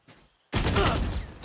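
A sudden loud burst of gunfire from a shot fired through a wall in the Valorant video game erupts after a near-silent moment and rings on for about a second.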